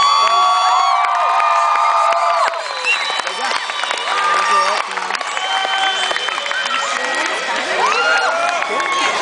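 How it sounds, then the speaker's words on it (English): Graduation crowd of the I-Poly class of 2009 cheering, whooping and clapping, a lively mix of shouts and applause over music-like tones and voices, loud and sustained. "Let's give them a round of applause."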